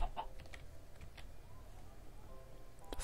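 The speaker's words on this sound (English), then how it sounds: "Ah, it's a chicken." Chicken clucking in the video game Eronev's Mansion 3, set in a garden area: a few short, faint clucks near the start and end over a steady low game background hum.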